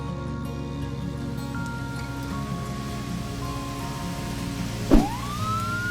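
A cartoon ambulance siren wails steadily over a background score, a loud continuous two-tone cry with a short bump and a rising pitch sweep near the end, no speech.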